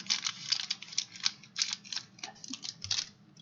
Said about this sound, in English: Stubborn scissors.